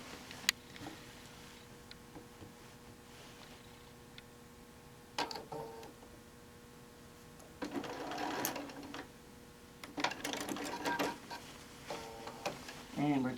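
A sewing machine makes a few short tack stitches on a quilt, heard as brief separate bursts of rapid mechanical clatter with quiet gaps between them, while a person talks at times.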